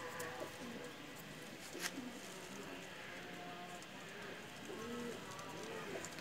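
Soft, low cooing from a pair of pet pigeons, a bateray male and a blue kamgar female, heard at close range in repeated gentle phrases over a steady background hum. Someone speaks faintly at times.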